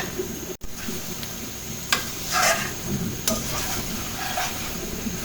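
Beef liver fries in a pan with a steady, close sizzle, broken by occasional scrapes and stirring strokes of a utensil against the metal, plus one sharp knock near the start.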